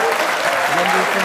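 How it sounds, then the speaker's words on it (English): An event audience applauds in a dense, steady wash of clapping, with a voice talking over it throughout. "big applause for the more important person"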